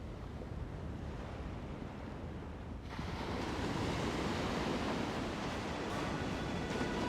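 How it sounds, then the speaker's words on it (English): Southern Ocean waves crash against the granite cliffs of The Gap near Albany, a steady broadband roar that swells louder after a few seconds, with wind buffeting the microphone throughout. "carved by the waves of the Great Southern Ocean crashing against the granite coastline"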